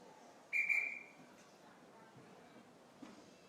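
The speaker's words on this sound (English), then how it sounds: "So Bart gave us a pause whistle there" A referee's single sharp pause whistle sounds at a timbersports competition, one clear short blast standing out over quiet arena murmur.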